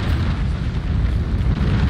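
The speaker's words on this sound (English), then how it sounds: "Explosion." A deep, rumbling explosion in the video game Risk of Rain 2, a heavy low boom that sustains as a dense roar for nearly two seconds with no talk over it.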